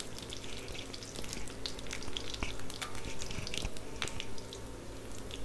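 Two to three dried red chillies spluttering in hot oil for onion sambar, a steady crackling sizzle with scattered sharp pops, close and continuous with no talk.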